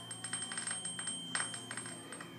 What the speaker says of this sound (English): watch what happens when I touch the table with the tuning fork after it's vibrating